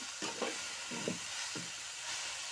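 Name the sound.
stirring curry leaves in a frying pan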